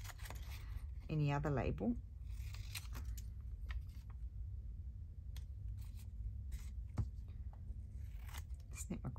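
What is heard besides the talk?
scissors cutting out paper labels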